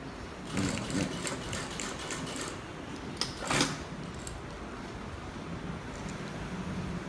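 A sewing machine stitches the flapped back pocket of a pair of trousers. A soft mechanical hum runs close by, with a few brief clacks and louder bursts as the fabric is handled.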